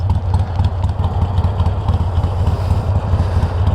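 A motorcycle engine idles steadily up close, a low, throbbing rumble with a rapid uneven chug and light mechanical clatter throughout.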